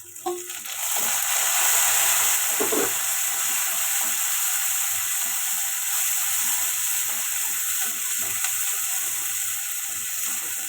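Tomatoes frying in a pan for an eggplant theeyal curry, a loud, steady, close sizzle with a broad hiss that holds throughout, with faint scattered crackles underneath.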